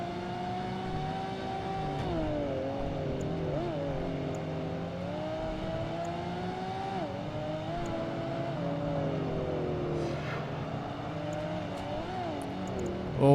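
Porsche race car engine in the game Project Gotham Racing 2, a loud, sustained high-revving drone whose pitch rises and dips with gear changes and throttle, continuous throughout.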